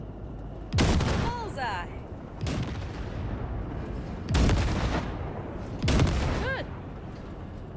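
Heavy gunfire in Cyberpunk 2077 blasting drifting wrecks, four loud booming shots spaced a second or two apart, each with a sharp crack and ringing tail, while a voice briefly cheers between blasts.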